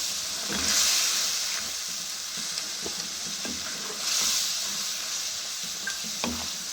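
Masala frying in oil with yogurt for a mixed vegetable dish gives a steady, soft sizzle. Occasional stirring taps and scrapes and brief louder hisses rise over it, close and moderately quiet.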